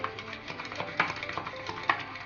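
Besan flour being stirred into sour buttermilk, soft wet swishing strokes in an uneven rhythm with a few sharper clinks, close and fairly quiet.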